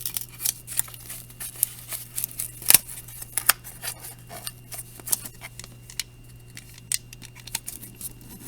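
A box cutter blade slicing through cardboard, producing a string of sharp, close scratchy cuts and ticks with small pauses between strokes.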